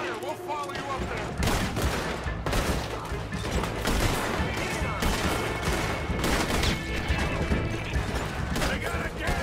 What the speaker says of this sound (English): They got a Gatling gun!